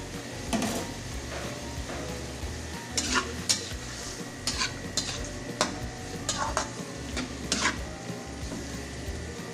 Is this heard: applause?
no